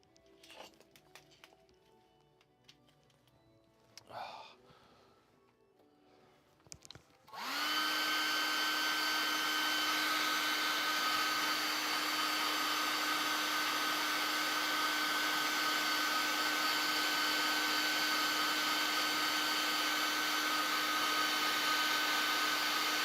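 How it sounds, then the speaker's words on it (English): After some quiet rustling and clicks, a hair dryer switches on and runs loud and steady with a constant whine until the end. "Look at the hairdryer going."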